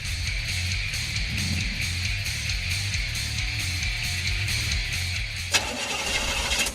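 A car engine cranks and struggles to start in a breakdown effect, a steady labored churning that ends abruptly in a short sharp clunk followed by a hissing rush.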